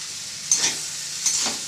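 Boiled jackfruit and potato stirred in hot oil in a pan for a vegetarian sabji, two soft scraping stirs over a steady close frying hiss, no talking.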